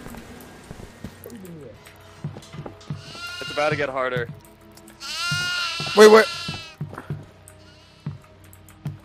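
Goats in the horror video game Devour let out a couple of loud, wavering bleats, one long cry near the middle, amid players' chatter and clicking keyboard sounds.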